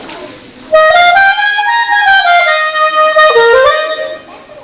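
Clarinet playing a short melodic phrase alone, clear and close, with sustained reedy notes that rise and fall smoothly after a brief quiet start.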